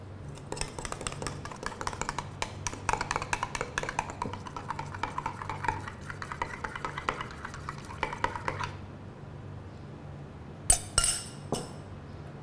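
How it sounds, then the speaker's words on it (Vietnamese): A spoon stirs milk powder into green milk tea in a glass, clinking rapidly and lightly against the sides in an irregular run, then stopping briefly before a few sharper clinks at the end. "Khuấy đến khi tan hết bột."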